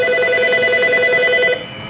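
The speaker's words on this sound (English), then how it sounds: "The phone's ringing" A telephone rings in an auto repair shop, a loud electronic trill that holds for about a second and a half before cutting off.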